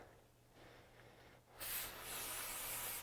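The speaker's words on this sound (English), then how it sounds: "I'm just using a little contact cleaner." A quiet hiss of contact cleaner sprayed from an aerosol onto a motorcycle air filter cage begins midway and continues steadily to the end, close by, after a faint low hum.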